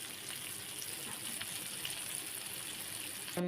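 Datali fry sizzling on a hot tawa, a steady close hiss of frying that runs unbroken throughout, with a brief louder clatter near the end.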